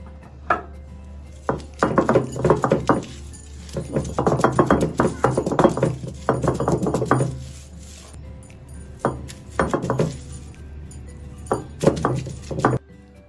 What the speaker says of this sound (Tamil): நான் அம்மிலனால வெங்காயத்தை 1-2 தட்டி எடுத்திருக்கேன்